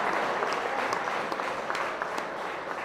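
Spectators applauding the referee at a handball doubles final, steady fairly distant crowd clapping with scattered sharper claps throughout.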